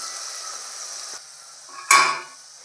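Chili powder and coriander powder go into a hot frying pan for ribbonfish curry. A steady oily sizzle hisses, dips briefly, then swells into a louder crackling burst as the spices land.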